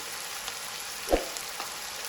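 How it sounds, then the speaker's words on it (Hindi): Spiced chicken mandi masala roasting in a pan gives a soft, continuous sizzle at moderate level, with one brief louder stir or tap near the middle. "अभी इसको अच्छी तरह भून लेंगे"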